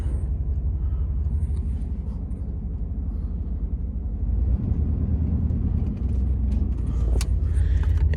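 Old abandoned Chevy car with rebuilt rear wheels driving slowly down a road, a steady low engine rumble and road noise heard from inside, growing slightly louder midway with faint rattles.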